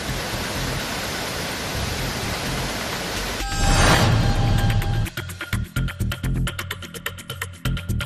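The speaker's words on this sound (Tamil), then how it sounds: "ஒகேனிக்கல் மெயினருவி, சினியருவி, 5 அருவிகளில் தண்ணீர் ஆர்ப்பரித்து கொட்டி" Water from the Hogenakkal main falls and its smaller cascades crashing down in a steady, loud roaring rush that swells midway, then continues as broken, churning splashes.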